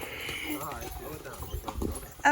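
Horse hooves clip-clop on a Puerto Rico rainforest trail during a horseback ride, soft irregular thuds close by with people talking over them.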